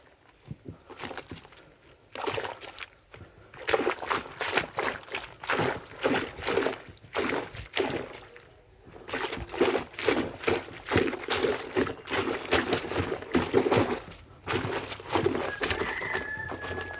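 Repeated wet sloshing and splashing in a steady stomping rhythm, close by, as a thick quilt is trampled in water to wash it, with brief pauses between bursts.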